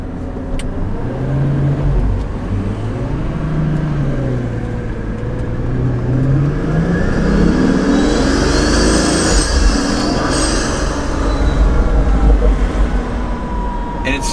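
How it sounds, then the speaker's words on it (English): A Pagani supercar's engine revs loudly and close, its pitch sweeping up and falling back in a strong continuous roar with crackles near the end, while a voice talks over it. "The sound this car makes is insane."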